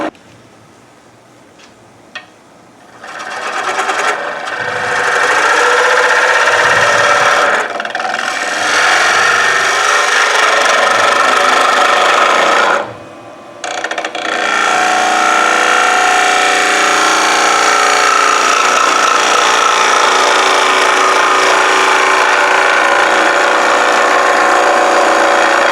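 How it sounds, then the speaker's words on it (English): A wood lathe turns fresh-cut tree wood while the tool, overhung far past its rest, chatters in a loud, continuous rasping vibration, briefly stopping twice before resuming. "that vibration you're hearing is that tool chattering because I'm overhung so far"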